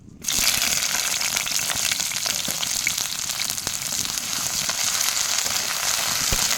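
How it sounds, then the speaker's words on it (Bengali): Sliced bitter gourd sizzles and crackles steadily in hot oil in a pan, a loud, dense frying hiss that starts abruptly and continues unbroken, with no talking. "এই তেলের মধ্যে ভালোভাবে ভেজে নেব উচ্ছেগুলো"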